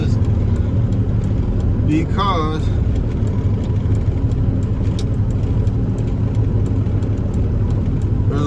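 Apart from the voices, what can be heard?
Peterbilt 379 truck with CAT 3406B engine backing out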